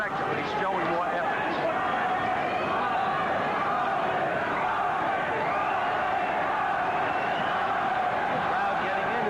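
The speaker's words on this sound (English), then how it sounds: "Crowd getting into it here." A boxing arena crowd roars and cheers late in the twelfth round of a Greg Haugen bout, a dense continuous wash of voices.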